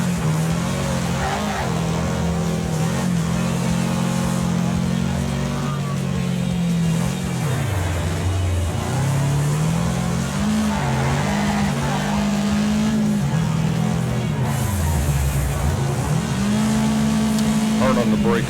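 A race car engine in the Wreckfest racing game drones loudly and continuously, revving up and dipping through gear changes and corners, with brief tire squeals, while a person talks over it.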